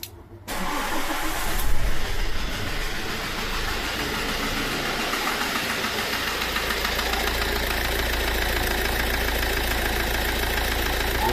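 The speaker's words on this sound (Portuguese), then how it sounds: "Com um barulhozinho no motor aí, ó. Vou ligar pra vocês verem aí, ó." A Fiat Ducato van engine with a fault noise cranks briefly, then catches and runs steadily at a rough, close idle, with a loud continuous drone and a faint knocking texture, and no talk.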